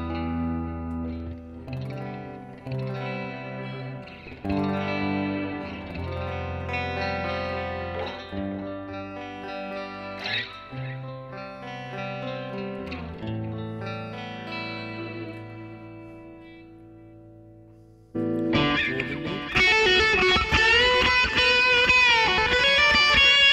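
Electric guitar played through Mooer GE Labs iPad app presets, first a clean chorused tone picking notes and chords, then a sudden switch to a bright, heavily distorted sound.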